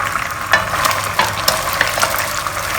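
Potatoes stirred into a thick sweet-savoury sauce with luncheon meat in a pan, giving a steady soft sizzle with several brief scraping stir strokes, close and moderately loud, no talking.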